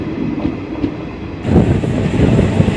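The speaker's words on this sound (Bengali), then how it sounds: "ট্রেনটা জাস্ট কার্ভ নিচ্ছে" The 15721 Paharia Express running, heard from on board as a loud steady rumble of wheels on rails that swells partway through, with faint clatter and no talk.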